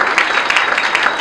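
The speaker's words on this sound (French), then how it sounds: "Sous vos acclamations, vous pouvez les recevoir pendant qu'ils avancent" Loud, steady applause from a crowd welcoming a church music team, dense clapping filling the space without pause.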